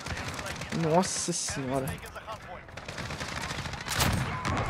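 Rapid automatic gunfire from an unmodified weapon in a video game, loud bursts repeating throughout with a player talking over them.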